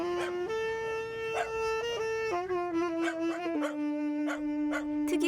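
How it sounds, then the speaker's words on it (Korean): A puppy yips and whimpers along with a saxophone. Sustained, stepped sax notes run throughout while short dog cries break in repeatedly, close and moderately loud. "특이한 것은 돼지라는 이름의 이 강아지입니다."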